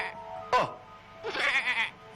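A little goat bleats twice, first a short sharp cry and then a longer wavering call, close and moderately loud against a quiet background.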